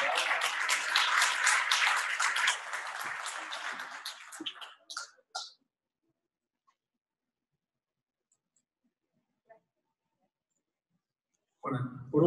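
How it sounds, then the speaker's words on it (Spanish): Audience applause at a Spanish-language awards ceremony for Sunset World, a dense burst of clapping that fades out over about five seconds, followed by near silence and a brief new burst at the end. "Un aplauso nuevamente, por favor."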